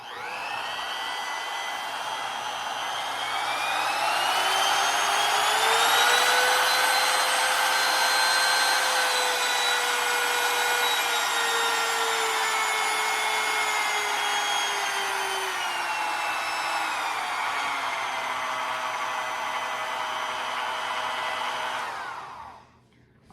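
A Harbor Freight Hercules trim router spins up with a soft start and runs steadily at low speed, a loud continuous whine with a rising pitch that holds before cutting off at the end.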